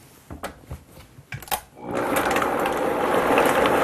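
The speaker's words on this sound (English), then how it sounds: "And then we'll turn the blender on for a second." A countertop blender starts up on vegan raw lasagna ingredients with water and salt, a steady loud whirring motor drone that follows a few clicks and handling knocks and holds smoothly to the end, with no talking over it.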